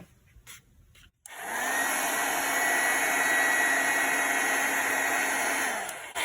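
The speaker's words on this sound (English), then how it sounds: "if I pull out my heat gun" Heat gun blowing steadily on a friction pen mark on paper for a pop-up card, switching on after a few soft handling sounds and holding a loud, even airy whoosh before cutting off.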